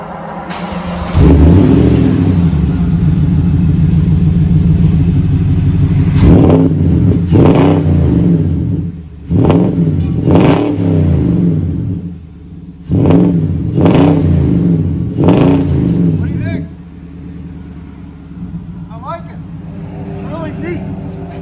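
A Nissan Titan 5.6L V8 truck's deep exhaust rumbles steadily, then revs up hard in several sharp bursts, pausing between throttle blips before settling back to idle.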